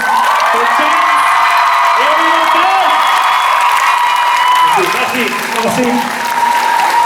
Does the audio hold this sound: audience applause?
yes